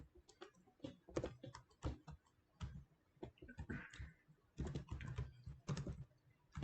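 Someone types code on a computer keyboard, bursts of quick close key clicks separated by short pauses, with no talking.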